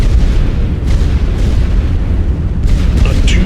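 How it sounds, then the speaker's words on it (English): Artillery and bomber strikes in a war strategy game, a continuous loud rumble of booming explosions with a few sharper blasts toward the end. "The bombers are coming and the artillery is going down again."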